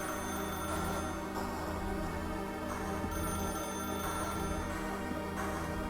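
A telephone ringing inside The Stanley Parable video game, a steady ring over a dense, continuous background that holds at an even loudness throughout.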